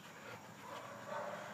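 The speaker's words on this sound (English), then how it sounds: "Harvey's not a get-in-your-face kind of dog. He's just a nice old boy." An old dog pants softly and steadily at close range, a faint continuous breathy rasp with no talking over it.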